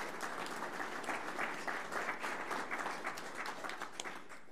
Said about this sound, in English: So Leanne Franklin, you deserve our applause.